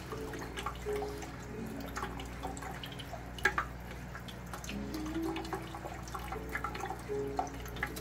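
Clean purified water runs and drips steadily while brine shrimp eggs are rinsed, a continuous close trickle with scattered splashy drops and no talking.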